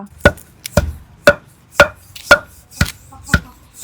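Chillies pounded with a pestle for gongura seed chutney, a steady series of about eight loud, close thuds at a regular rhythm of roughly two per second, with no talk.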